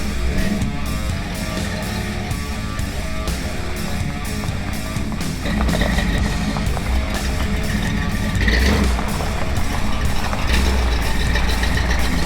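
A 1970s Chevy shorty van engine runs steadily with a dense, loud low rumble throughout, no talking over it, a slight rise in intensity about halfway through.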